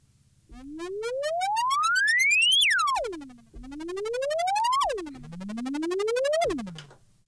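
Ableton Wavetable synth riser with an LFO sweeping the wavetable shape: three rising buzzy tones, each climbing steadily then dropping sharply, loud and alone with a steady low drone beneath.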